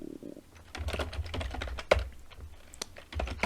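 Quick, irregular keystrokes on a computer keyboard: a close run of light clicks and taps, some louder than others, with no voices.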